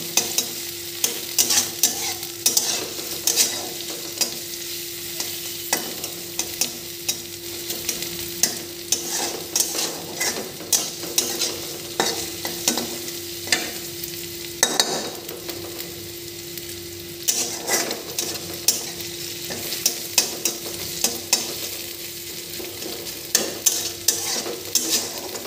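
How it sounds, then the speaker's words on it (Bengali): Chicken pieces for Chicken Manchurian frying and being stirred in a pan, a steady close sizzle broken by repeated scraping stirs over about twenty-five seconds, with no voices. "ভালো করে ফ্রাই করে নিতে হবে।"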